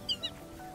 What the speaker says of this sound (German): Vöglein am Zwitschern